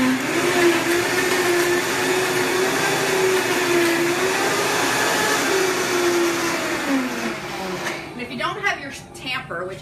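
A countertop blender with a tamper runs steadily and loudly, blending soup ingredients with water, its motor droning evenly before the tone shifts and churns unevenly near the end.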